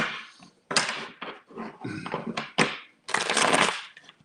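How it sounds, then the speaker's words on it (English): Several quick bursts of tarot cards riffling and snapping, close and loud, separated by short pauses, ending in a longer shuffle. "that's a short shuffle"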